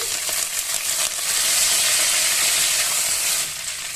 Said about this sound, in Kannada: ನಾನೀಗ ಒಂದು ಹ್ಯಾಂಡ್ ಫುಲ್ ಆಗುವಷ್ಟು ಕರಿಬೇವನ್ನ ಆಡ್ ಮಾಡ್ಕೊತಾ ಇದ್ದೀನಿ